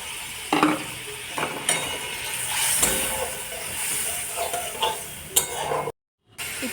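Ginger garlic paste and salt sizzle in a pan as a utensil stirs them, with scraping strokes and clinks against the metal, a brief dropout near the end.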